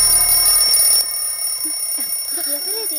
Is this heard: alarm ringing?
yes